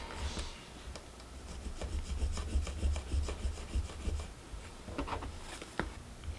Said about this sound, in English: And I'm just going to draw a line.